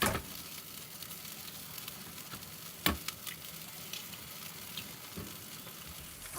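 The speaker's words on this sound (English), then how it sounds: "scoot everything over to the side and crack 2 eggs into your pan" Two eggs are cracked into a hot pan beside fried rice, giving a faint, steady sizzle broken by a couple of sharp clicks and taps.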